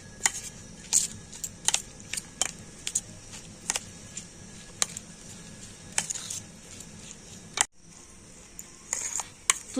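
Eggs and chopped vegetables being mixed in a bowl with a little salt, giving a run of light clinking, tapping utensil strikes against the bowl at an uneven rhythm, close and fairly quiet.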